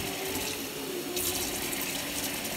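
Steady running water from a faucet rinsing breast pump parts in a sink, a continuous close hiss and splash that brightens slightly partway through, with no talk.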